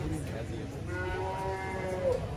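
A 4-H calf moos at a county fair, a low, drawn-out bellow rising over steady crowd and barn background noise, with people talking faintly around it.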